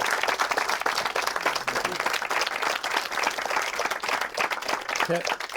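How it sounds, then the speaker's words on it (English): An audience at a live interview event gives a sustained round of applause, dense and fairly loud, with the clapping holding steady for several seconds. "So, should we give them a round of applause for that?"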